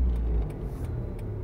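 Manual-transmission car stalling during a beginner's stick-shift lesson, a low engine rumble that sags and dies away inside the car, steady and close, with no voices over it.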